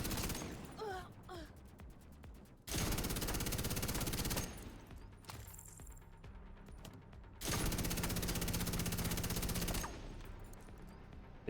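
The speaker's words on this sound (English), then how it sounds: "We just gotta shoot the NPC." Video game gunfire from The Division 2 as an NPC is shot, with two long, loud sustained bursts of rapid automatic fire separated by quieter stretches of game ambience and faint vocal sounds.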